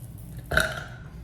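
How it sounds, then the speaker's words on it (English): A single close, loud burp from a person, rising abruptly out of a quiet room and fading within about half a second. "I think I have to burp."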